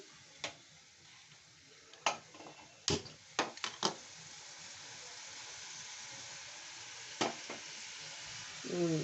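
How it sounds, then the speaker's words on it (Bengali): Chicken for khichuri stirred in a hot pan, a quiet steady sizzle broken by a few sharp clinks and scrapes of the spoon against the pan. "এইবার আপনি এইটার একটুখানি নাড়াচাড়া করে নিচ্ছি।"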